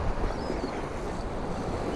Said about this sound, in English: sorry it's probably real windy for you guys